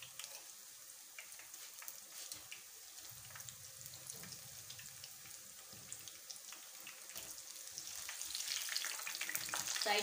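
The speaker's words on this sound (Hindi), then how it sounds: "तेल हमारा गर्म हो चुका है, इसके अंदर हम फुल्कियों को डाल देते हैं।" Phulki gram-flour fritters frying in hot oil, a continuous soft bubbling sizzle that grows louder and brighter toward the end, with no talking.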